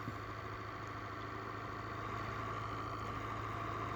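A 3D-printed horizontal magnet motor spinning steadily, giving a continuous faint whirring hum with a low steady drone and no change in pace, no voices.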